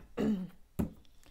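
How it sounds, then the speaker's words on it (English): Two bursts of throat clearing, a longer rasping one followed by a shorter sharp one, close and fairly loud with no talking. "for me trying to clear my throat"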